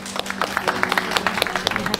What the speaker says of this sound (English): Can I hear your applause, please?